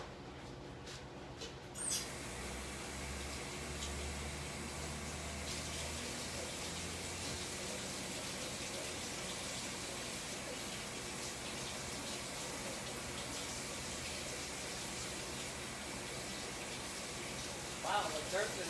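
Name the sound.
rinsing mushrooms under running tap water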